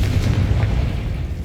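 A Confringo fire spell explodes in the video game Hogwarts Legacy with a heavy, rumbling boom that rolls on loud and continuous, dense in the low end, with no voices.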